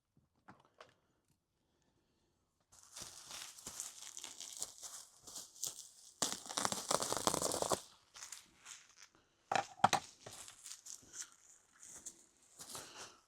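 Scissors cut open a padded mailer package, crinkling and crumpling plastic and paper with short snips and rustles in bursts, quiet and close, no talk.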